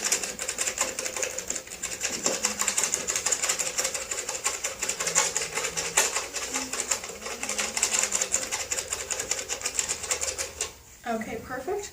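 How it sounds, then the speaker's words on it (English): A surgical suction vacuum pulling shaved fur off a dog's abdomen before a pyometra operation, a steady buzzing, rattling whir that runs continuously and then cuts off near the end. "We're going to vacuum all the fur off."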